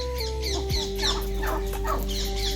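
Roosters cluck and squawk in quick, overlapping bursts close by, with a low steady hum underneath.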